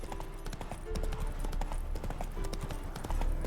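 Horse hooves clip-clopping at a steady walking rhythm in The Witcher 3, close and fairly loud over a low ambient game background, with a faint snort or whinny.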